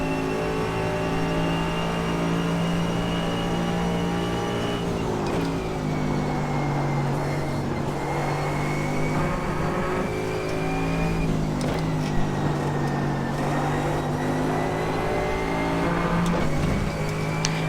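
Mercedes GT3 race car engine in the iRacing sim, a loud continuous roar that rises in pitch through each gear, then drops sharply at repeated shifts or braking points before climbing again, with no voices over it.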